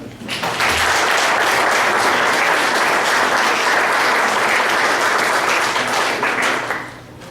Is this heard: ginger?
no